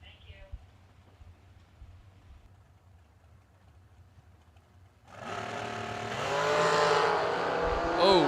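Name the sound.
drag racing dragster engine revving and accelerating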